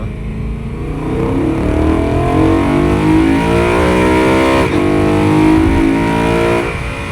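A BMW E92 M3 engine revs hard and accelerates at full throttle, its pitch climbing steadily, loud and close throughout.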